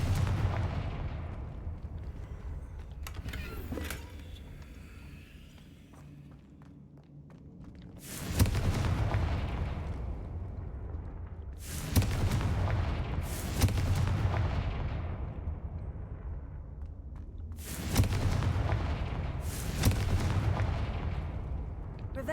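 Confringo blasting spells going off in a video game, several loud booming explosions in a row, each with a sharp attack and a long rumbling decay, spaced a few seconds apart.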